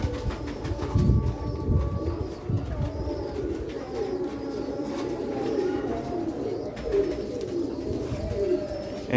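Sialkoti black-mouthed pigeons coo continuously and overlapping, a dense, loud, throaty murmur with brief rustling, close by and heard without talk.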